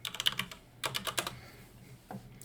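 Bursts of keystrokes on a computer keyboard as a prompt is typed, with two quick flurries of clicks and a lone tap near the end, close and clear with no voices.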